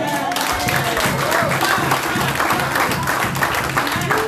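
A church congregation applauds in a dense, continuous burst of clapping with rhythmic pulses, while voices call out beneath it.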